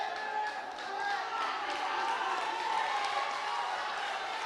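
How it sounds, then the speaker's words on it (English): Football supporters of Java Lane SC cheer their team at a Colombo FC match in the Dialog Champions League, a distant, sustained crowd roar with scattered whistles and shouts beneath commentary. "The Javelin supporters are pumped up and they are cheering their team."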